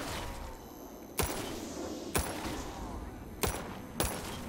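Pistol shots in Black Ops 3 zombies on a custom map, four sharp single cracks at uneven intervals over a steady game background din.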